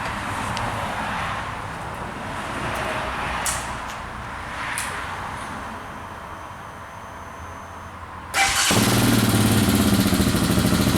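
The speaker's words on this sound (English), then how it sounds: "I'm going to go ahead and turn the bike on and start it" A Hawk DLX motorcycle engine starts close by and settles into a loud, steady idle that holds to the end after a quieter stretch of background hum.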